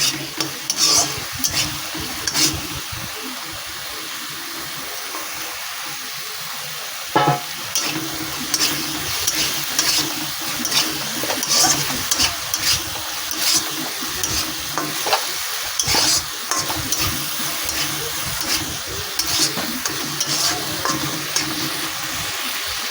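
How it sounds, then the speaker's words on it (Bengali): Spice paste stirred and fried in a pan over low gas flame, with a steady soft sizzle under repeated scraping and stirring strokes, close and moderately loud, no talking. "গ্যাসটা আমি স্লিমে দিয়ে আমি মশলাটা নাড়াচাড়া করে নিচ্ছি"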